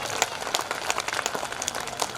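Audience applause at a college stage programme at Chaitanya College, Pamgarh, Chhattisgarh: a dense, steady wash of many hands clapping at moderate level, continuous throughout with no talk over it.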